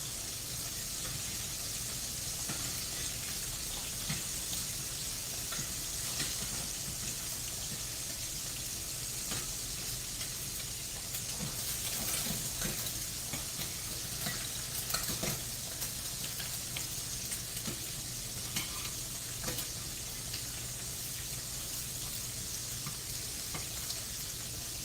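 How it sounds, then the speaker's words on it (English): An egg fries in a pan, a constant soft crackling sizzle with scattered pops over about twenty-five seconds, faint and steady with no talking. "Like I said, this egg fries quick"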